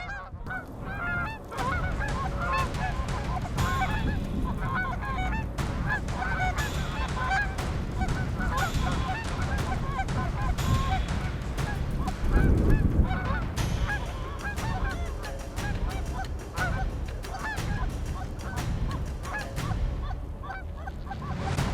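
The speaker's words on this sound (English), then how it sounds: "The birds coming off this roost, they really were not wasting much time." A large flock of geese lifts off a roost during a fall waterfowl hunt, dense overlapping honking and calling continuing steadily for over twenty seconds, loud and busy with no speech.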